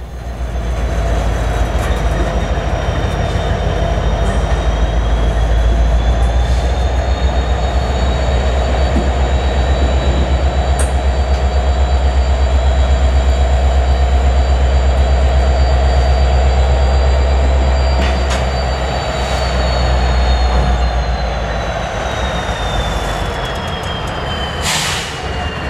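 A Canadian Pacific EMD SD70ACU diesel locomotive switching cars, its engine droning loud and steady throughout with low rumble, a few brief wheel squeals and clanks near the end.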